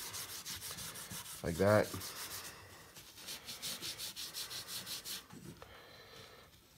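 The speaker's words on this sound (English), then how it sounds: "Not really scrub, just wiping on the boiled linseed oil with steel wool." Boiled linseed oil is wiped onto a 19th-century wooden beading plane with steel wool, giving soft, steady rubbing and scrubbing strokes close by, with a short spoken phrase near the start.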